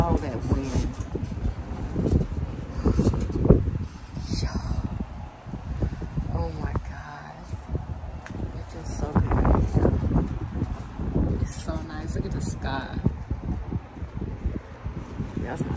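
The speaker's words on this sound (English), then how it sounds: "Oh my God, the wind is blowing." Outdoor wind gusts across a microphone in warm, dry weather. The gusts swell and fade under intermittent talking.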